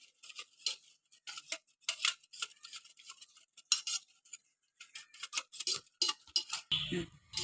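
Oil, rice flour and jaggery are stirred in a bowl, with irregular scraping and clinking strokes of a utensil against the bowl, close and fairly quiet, with no talking.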